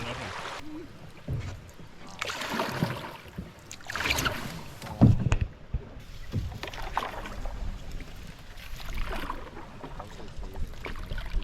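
Canoe paddling on a lake in Algonquin, with irregular water strokes and splashes close by, a sharper splash midway, and intermittent talking mixed in.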